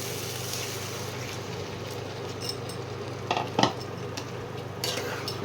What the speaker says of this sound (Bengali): এইবারে আমি সেদ্ধ করা ওলকপি আর আলুটাকে দিয়ে দেবো।